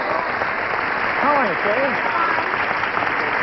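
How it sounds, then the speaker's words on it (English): A studio audience at a 1976 CBS daytime game show applauds steadily throughout, a dense wash of clapping while the host's voice greets a contestant over it. "Would you all briskly applaud"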